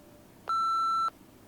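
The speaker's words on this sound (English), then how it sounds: "What's that beep?" A single clean electronic beep from a mobile phone announcing an incoming text message, steady for about half a second in an otherwise quiet room.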